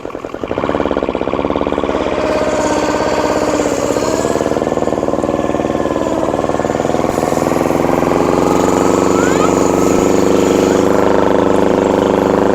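A John Deere 316 garden tractor fitted with a swapped-in Kubota diesel engine runs steadily up close, a loud continuous droning rumble whose pitch rises and falls slightly as it is revved.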